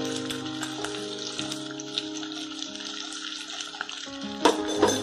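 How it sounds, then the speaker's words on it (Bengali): Chicken seasoned with salt and black pepper is stir-fried in a pan, giving a moderate sizzle with stirring beneath a sustained tonal hum, and sharper spatters near the end. "আমি চিকেনটাকে ভালো করে কষিয়ে নিচ্ছি।"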